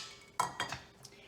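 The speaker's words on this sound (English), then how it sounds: "So I'm going to dump in the lentils, potatoes" Lentils and potatoes tumble into a metal soup pot in a home kitchen, giving a couple of short clattering knocks and clinks, close and fairly soft against a quiet room.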